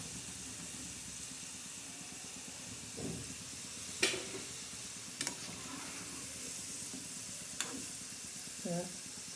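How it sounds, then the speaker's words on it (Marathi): Wheat flour modak filled with sesame and coconut fry in a pan with a soft, steady sizzle, broken by a few sharp clinks and scrapes of a spoon. "कसे मस्त भाजलेले आहे या पद्धतीने असे लालसर भाजायचे"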